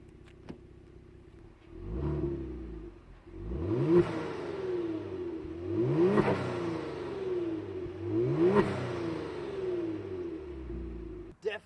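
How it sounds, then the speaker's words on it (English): A Kia Stinger GTS engine with stock exhaust revs up three times in a row, each rise climbing and falling back to idle, fairly loud and close. "Let me rev it up for you guys real quick."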